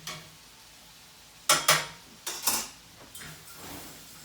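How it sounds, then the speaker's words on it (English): Chopped meat browns in a pan with a faint steady sizzle, broken by a few clanking scrapes of a utensil stirring against the pan, close and fairly soft. "browning the chopped meat. We don't want to rush it."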